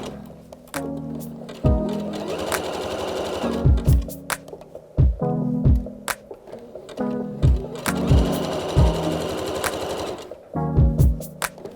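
A sewing machine zigzag-stitches around the edge of a garment top in short bursts of rapid mechanical stitching, separated by brief pauses and soft thumps, close and fairly loud with no speech.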